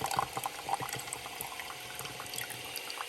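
A Nespresso Vertuo coffee machine pours water during descaling, splashing steadily with a bubbling, gurgling texture, moderately close and continuous for a few seconds with no talking.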